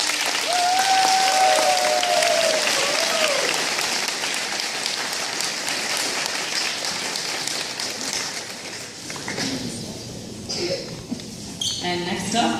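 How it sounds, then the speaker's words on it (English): Applause from a school audience at a fifth grade recognition ceremony, a dense, steady clapping wash lasting the whole stretch and tapering slightly near the end, with a voice briefly audible over the start. "Nicole Walker, Give him a round of applause."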